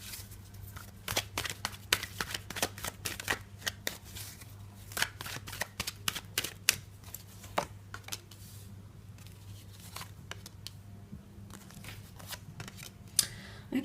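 Tarot cards are shuffled in a long, steady run of crisp riffles and slaps, then drawn, heard up close without any talking.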